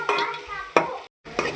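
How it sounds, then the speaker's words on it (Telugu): Ginger and turmeric frying in a pan with amaranth greens for thotakura curry. A spatula stirs them in a few quick scraping strokes, close up, with a brief gap in between. "ఈ రెండింటిని బాగా కలిసేంత వరకు బాగా తిప్పుకోవాలండి"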